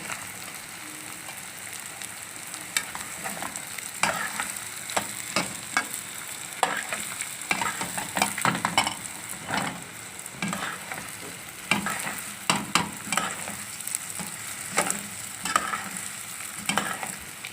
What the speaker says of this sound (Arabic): كل شويه نقلب فيه كده.